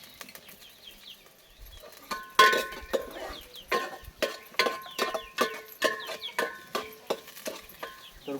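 Chickens at a rural village home, with brief clucks and fluttering wings over a faint background of birdsong that grows busier and more frequent toward the end.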